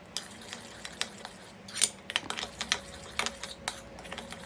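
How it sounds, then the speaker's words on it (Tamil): A thick paste with grated Dove soap is stirred in a bowl. Quick light clicks and scrapes of a spoon against the bowl keep up a fast, uneven rhythm, close and fairly quiet, with no talking. "நல்லா கிளறி விட்டுக்கணும். நல்லா கிளறி விட்டுட்டே இருக்கணும்."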